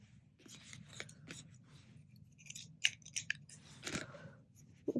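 Scissors trim a crochet yarn tail on a plushie pumpkin pie: a few crisp, close snips scattered over a quiet background with light handling rustle, no voices.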